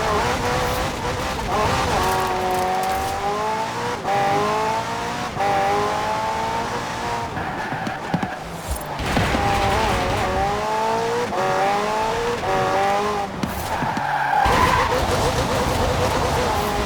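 A McLaren P1 GTR race car in Forza Horizon 4 revs hard and loud, its engine pitch climbing through repeated gear pulls with bursts of tire squeal, while a voice talks over it.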